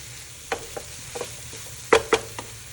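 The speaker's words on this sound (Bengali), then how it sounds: "তাই জন্য একটু জল দিয়ে ফ্রাই করছি" Mashed low-fat paneer fries with a little water in a pan, a soft steady sizzle under several sharp scraping stirs of a spatula, close and with no voices.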